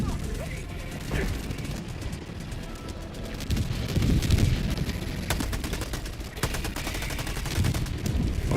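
Dense weapons fire from the video game Helldivers 2, with repeated gunshot bursts and rapid automatic shooting layered over heavy low rumble and explosions, loud and continuous throughout, with voices talking underneath.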